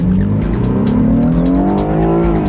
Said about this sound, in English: So let's enjoy an acceleration run, shall we?